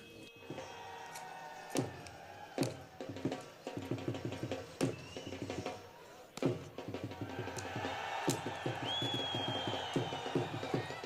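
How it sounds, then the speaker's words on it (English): Spectators at the India-Pakistan zero-line border gate ceremony, heard from the Pakistan side, cheering in rising waves, with sharp bursts of stamping and shouting over a distant crowd roar that grows fuller toward the end. "the citizens cheer their gladiators with every move"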